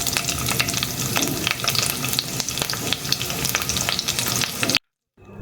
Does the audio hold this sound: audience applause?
no